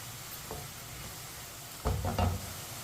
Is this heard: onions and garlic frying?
yes